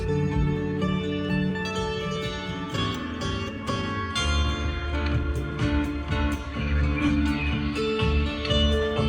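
Bright plucked bandura strings play a busy, rhythmic passage over deep bass notes. The sound is continuous and near, and no one speaks.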